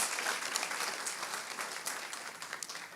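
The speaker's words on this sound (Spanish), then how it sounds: "Now you could give that strong applause." Church congregation applauding during a sermon, a dense, continuous patter of many clapping hands across a large room, fairly soft and steady for a few seconds with no voices on top.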